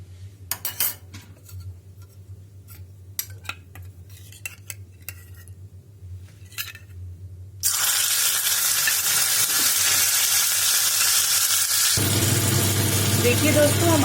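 Spices hit hot ghee in a pan and burst into a loud, dense sizzle partway through, preceded by scattered clinks of a spoon against the pan and followed by continued frying with stirring.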